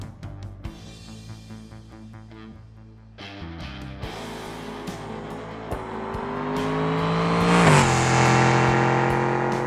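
A Grand Marshal drag car makes a run in the driving game BeamNG, its engine revving up and shifting through gears before a long, rising full-throttle roar that gets louder toward the end.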